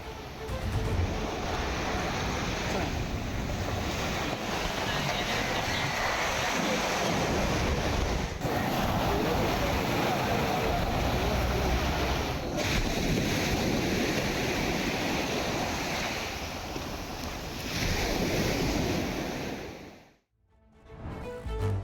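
Rough sea waves and strong wind on the Rameswaram coast roar continuously and loud, gusts buffeting the microphone, before cutting briefly to near silence at the end.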